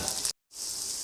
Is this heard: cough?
no